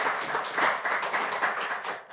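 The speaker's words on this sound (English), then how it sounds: "I want to suggest that we all give our candidates a round of applause" Audience clapping for the candidates at a town meet-the-candidates debate in Yarmouth, a steady patter of many hands that tapers off toward the end.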